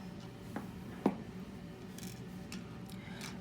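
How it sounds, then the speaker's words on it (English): Pliers snip copper wire for earrings up close, with a couple of short, crisp clicks standing out from faint handling noise. "I'm going to take my pliers Go to the back, snip that off like that."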